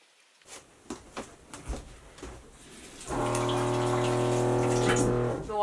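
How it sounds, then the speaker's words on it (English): Several faint clicks and taps are followed by the small electric water pump of an off-grid tiny house, which kicks on with a loud steady hum and running-water whine, no talking. "the sound is my water pump, which I have because I live in a little off-grid tiny house"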